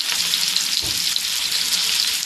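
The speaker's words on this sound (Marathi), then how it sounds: "आता आपण फ्राय करून घेऊया" Bangda mackerel coated in rice flour frying on a hot tawa with oil and curry leaves: dense, continuous close sizzling and crackling, with a brief low thud partway through.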